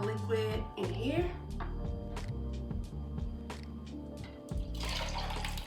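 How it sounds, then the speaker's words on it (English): Cocktail liquid poured over ice into a glass for a spirit-free drink, a steady watery pour that runs through most of the moment with a few light clinks, fairly close and partly under talking. "now I'm just gonna pour a little bit of my liquid in here"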